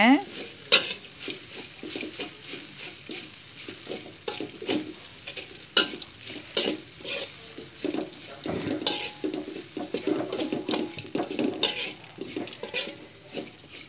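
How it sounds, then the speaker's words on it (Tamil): A utensil stirs and scrapes an Indian-style bread stir fry in a pan, steady clinks and scrapes over a soft background sizzle, close and moderately quiet, with no talking. "இது கொஞ்ச நேரம் நல்லா கிண்டி விட்ருங்க"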